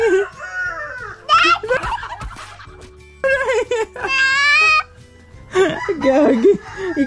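Chickens at a Filipino backyard flock cluck and squawk in loud bursts close by, separated by short pauses, with people talking and laughing nearby.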